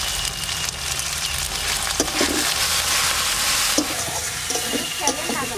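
A paste of ginger, garlic and green chilli fries in oil for a mutton curry, a loud, steady sizzle throughout with occasional scraping stirs in the pan.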